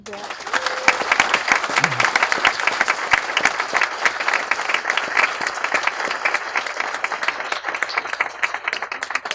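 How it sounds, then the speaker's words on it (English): Audience applause at a 60th anniversary program, sustained crowd clapping for about nine seconds with a brief voice near the start. "maybe it should have a round of applause"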